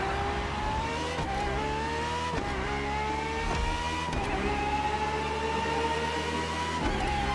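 Ferrari FXXK racing car in The Crew Motorfest, a loud high-revving engine screaming close up, climbing through gears with quick dips at each shift and occasional tire squeal.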